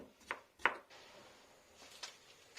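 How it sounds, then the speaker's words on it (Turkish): Gherkin pickles diced into small cubes with a knife, two crisp board knocks close together, then soft scraping and a faint later tap, quiet and near. "küp küp küçük küçük doğrayacağım kornişon turşularımı"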